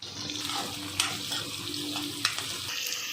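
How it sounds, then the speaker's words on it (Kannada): Onion, green chili and curry leaves frying in hot oil for beetroot palya give a steady, moderate sizzle, with a couple of sharp clicks of a spoon stirring the pan. "ಈರುಳ್ಳಿ ಹಸಿರು ಮೆಣಸಿಕಾಯಿ ಕರ್ಬೇವಿನ ಸೊಪ್ಪು ಇಷ್ಟು ಸ್ವಲ್ಪ ಫ್ರೈ ಮಾಡ್ಕೊಳ್ಳೋಣ"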